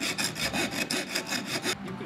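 A hand saw cuts through bamboo to shape a drinking cup, giving about eight quick, even back-and-forth rasping strokes, close and loud, with no talk.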